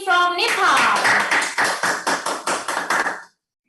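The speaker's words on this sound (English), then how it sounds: "Let's give another round of applause to Hyojeong drama team from Nepal." A crowd at the Hyojeong Peace Festival breaks into steady, rhythmic unison clapping for a drama team from Nepal, loud and even-paced for about three seconds after a brief voice at the start.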